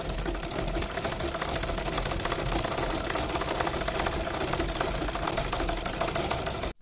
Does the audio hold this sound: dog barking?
no